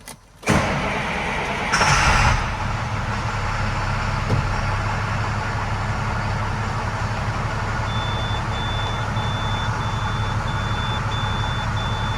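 A 2006 International 4300 hook lift truck that has sat unstarted for several days cranks and catches after a short burst, then settles into a loud, steady diesel idle with a repeating beep coming in later.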